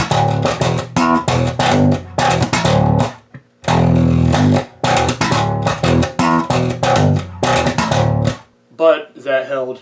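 A recording of a song plays loudly in chopped, stop-start bursts of dense, punchy slapped bass and guitar, cutting out briefly before resuming and ending in a sparser fragment.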